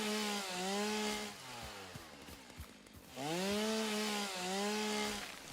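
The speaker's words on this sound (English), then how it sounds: "we've got this beautiful chainsaw" A chainsaw in the video game Satisfactory revs loudly in two long bursts as it cuts through obstacles, with a quieter idling stretch between them.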